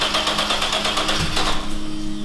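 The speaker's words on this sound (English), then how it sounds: "let's fire up the Lamborghini's engine for the first time" A Lamborghini replica's engine starter cranks on its first start, a rapid, steady, rhythmic whirring chug heard close up for about two seconds.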